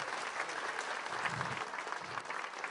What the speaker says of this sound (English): A round of applause, please, for GAD SAAD.